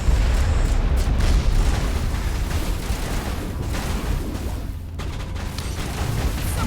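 A grenade explodes in the video game Mass Effect Legendary Edition, followed by a dense, loud booming rumble that carries steadily through the whole stretch and eases slightly toward the end.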